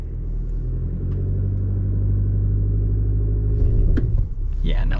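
A 2025 Chevy Colorado Trail Boss pickup stuck in 2-wheel drive revs steadily, a loud close engine drone holding for several seconds before a brief dip near the end.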